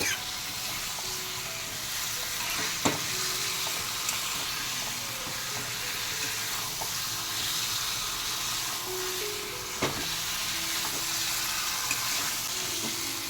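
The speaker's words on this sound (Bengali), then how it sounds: "দেখো কি ভালো কষানো হচ্ছে।" Marinated biryani meat sautéing in mustard oil, a dense continuous sizzle and hiss with occasional sharp spoon knocks against the pot, close and steady throughout.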